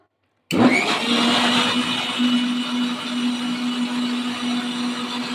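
A mixer grinder running in pulse mode churns butter for homemade ghee, starting abruptly from silence into a loud, steady whirring roar with a constant motor hum, close and alone.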